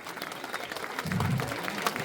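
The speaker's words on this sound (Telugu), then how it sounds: "అందరు లేచి నిలబడి చప్పట్లు కొట్టండి" An audience gives a standing ovation after a dance performance at a Sri Sathya Sai temple event in Gajwel, Siddipet, with dense clapping that swells midway and continues at a moderate distance.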